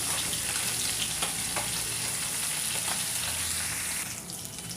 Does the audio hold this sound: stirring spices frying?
yes